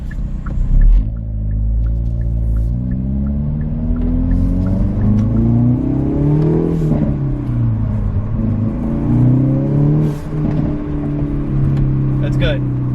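A Hyundai Veloster N engine idles and revs up to about 2,000 rpm, its loud, close drone climbing and dipping in pitch over several seconds while a person speaks over it.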